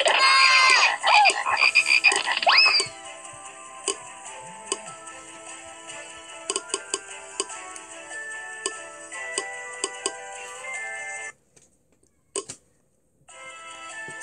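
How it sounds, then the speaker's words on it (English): Cartoon-style frog croaks for a children's Bible story about the plague of frogs in Egypt: a burst of bright croaking, then a scatter of short ticking croaks and a few isolated calls separated by brief silences. "So frogs were everywhere in Egypt"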